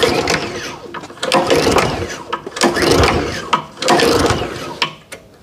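A small lawn-care engine, left five months in storage without fuel stabilizer, gets repeated pull-starts. Rhythmic ratcheting whirs of the recoil cord sound close and loud, and the engine does not catch.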